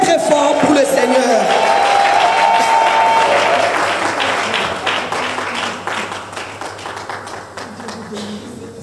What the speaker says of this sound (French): on acclame très très fort pour le Seigneur